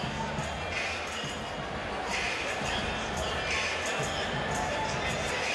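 A large boxing crowd murmurs and cheers inside Freedom Hall in Louisville, Kentucky, ahead of a main event, a distant, continuous roar with faint swells and no single voice standing out.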